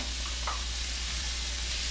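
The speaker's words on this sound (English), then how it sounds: "We're going to throw that back into the frying pan." Meat sizzles steadily in a hot pan, a continuous hiss with a faint stir or scrape early on.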